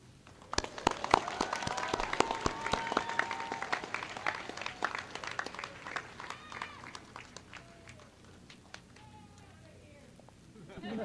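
An audience at a high school commencement ceremony applauds the graduating class. Scattered claps build into steady applause, then thin out toward the end, with some talk mixed in.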